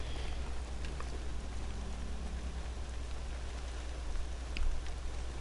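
Steady rain in the video game Horizon Zero Dawn, a soft continuous hiss of drops with a faint low rumble underneath and a few brief louder splashes near the end, without any voices.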